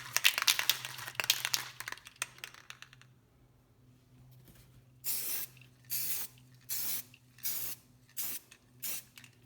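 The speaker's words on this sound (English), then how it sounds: "following that up with the second coat" Finish coat sprayed onto a guitar neck from a kit: after some crinkling handling noise and a pause, six short, sharp hissing spray bursts come at a regular rhythm, close and fairly loud against a faint hum.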